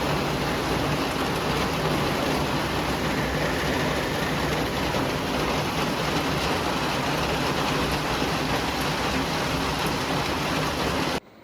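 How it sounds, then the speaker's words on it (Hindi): Heavy rain pours down as a dense, constant hiss at close range, steady and loud for the whole stretch before cutting off abruptly at the end, with no voices. "तो आज ढेर सारी बारिश के साथ हो चुका था नेक्स्ट डे स्टार्ट"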